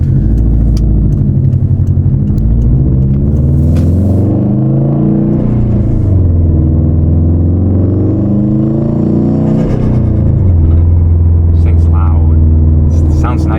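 Subaru WRX STi fitted with a Tomei exhaust, a steady low engine drone from inside the cabin with windows up as the throttle is lifted, pitch sliding and settling, with people talking over it.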